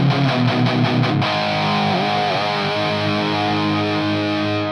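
A distorted electric guitar through a ToneX Brown Sound 84 preset plays a few quick picked notes, then rings out on a smoother, sustained chord with a slight bend.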